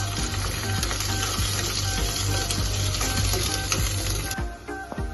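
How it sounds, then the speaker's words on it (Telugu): Onion, curry leaves and green chillies frying in oil with whole garam masala spices, a dense continuous sizzle with occasional stirring clinks, close and loud, easing near the end. "దాంట్లోకి మనం ఆనియన్, కరివేపాకు, అలాగే పచ్చిమిర్చి వేసుకొని కొద్దిసేపు వేయించుకుందాం."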